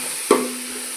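Tomatoes and green chilies with onion paste are stirred in a hot pan: a single short scrape-and-sizzle burst over a quiet, steady frying hiss, with no talking.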